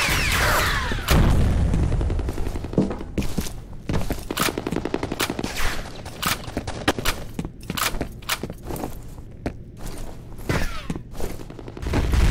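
A grenade explodes in the shooter game F.E.A.R. Combat, with a heavy boom near the start followed by dense, continuous rapid gunfire and further sharp blasts throughout.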